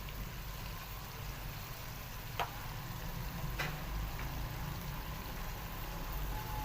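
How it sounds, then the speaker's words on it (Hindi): Capsicum and potatoes frying in masala in a pan give off a steady, even sizzle throughout, with a few sharp clicks and ticks popping out along the way. "अब ये अच्छे तरीके से मसाले के अंदर फ्राई हो जाएंगी और आलू भी इसी के अंदर डाल देंगे"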